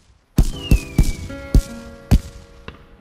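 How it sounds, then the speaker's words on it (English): Cartoon fireworks in a Peppa Pig episode: six loud, sharp booming bursts at an uneven pace, with a rising whistle and ringing tones between them, and no talk. "The fireworks are really loud"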